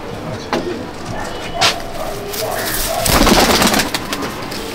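Lalsira Andhra pigeons in a loft at Kestopur coo and flutter close by, with soft repeated calls and brief wing or movement noises over a busy background where people seem to be talking.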